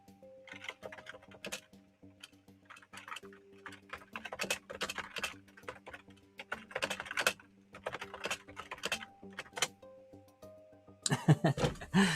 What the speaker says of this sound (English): that's why I'm typing in chat for you